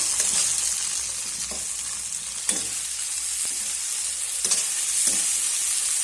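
Chopped onion and tomato fry in a pan with a steady sizzle, broken by several distinct stirring scrapes of a spoon at irregular intervals, close and moderately loud with no talking.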